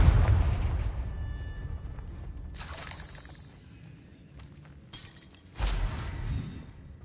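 Confringo fire-blast spell bursting in Hogwarts Legacy, a heavy booming blast at the start that decays into crackling rumble, followed by two more sharp bursts a few seconds apart, the last one loud and low.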